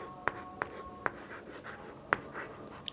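Chalk or marker tapping and scratching on a board while a maths formula is written, a few sharp strokes spaced irregularly, close and fairly quiet.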